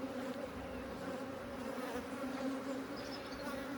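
Honey bees fill a hive with a dense, steady buzzing hum during queen supersedure, close and continuous without a break.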